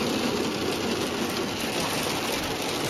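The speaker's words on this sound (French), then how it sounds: "Il s'est mis à pleuvoir d'un coup." A sudden heavy downpour during van-life travel, next to a forming pond: a dense, steady hiss of rain, loud and close, that holds unbroken for about three seconds.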